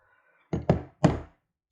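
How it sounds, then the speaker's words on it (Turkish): Slide of a TİSAŞ Zig 14 pistol being removed: three quick, close metallic thunks in a row in an otherwise quiet room. "emniyetimi aşağı doğru indiriyorum. Ve sürgümü önden alıyorum."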